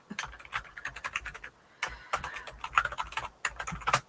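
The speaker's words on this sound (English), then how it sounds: "I will try and type it." Rapid, uneven clicking of keys typed on a computer keyboard, close and quiet, with a brief pause partway through.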